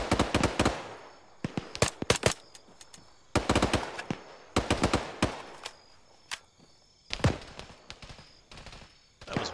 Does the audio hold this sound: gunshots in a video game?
yes